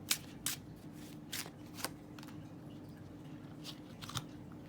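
Tarot-style cards handled and drawn for a reading, soft papery flicks and slides repeating at irregular intervals, quiet and close over a faint steady hum, with no speech.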